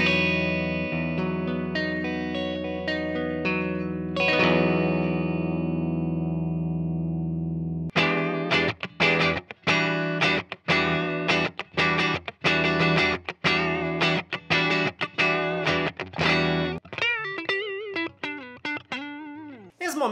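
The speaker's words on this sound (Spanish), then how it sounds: "ahora escuchemos la Fender Telecaster Kotzen en canal limpio" A Fender Telecaster Kotzen electric guitar played through a clean channel: a long ringing chord fading out, then a run of quick, evenly plucked notes with a light effects sheen, close and clear with no talking.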